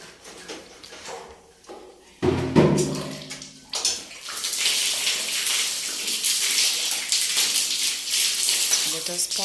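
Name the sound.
water poured to rinse soap from a soap dish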